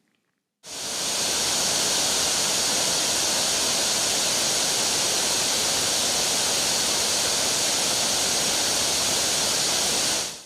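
Attukad waterfall in Kerala's hill country, between tea estates and slopes, crashes over rocks in a loud, steady roar of rushing water that starts abruptly and holds constant throughout.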